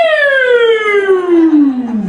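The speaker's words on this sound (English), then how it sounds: "They have that nice, soothing siren." A police car siren with a loud, clear descending wail sweeping smoothly downward in pitch, close and alone with no talk.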